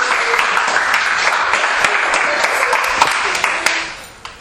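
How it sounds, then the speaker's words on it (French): Dense, steady audience applause at a youth trophy ceremony, many hands clapping together close by at a loud level, with a few sharper claps on top before it begins to fade at the end. "Ah ben super, bravo, on peut l'applaudir."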